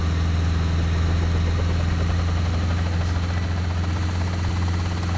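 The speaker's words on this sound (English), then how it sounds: "I am in a helicopter." Helicopter engine in the video game Garry's Mod, a steady loud drone with a strong low hum and constant whine, unchanging throughout with no voices.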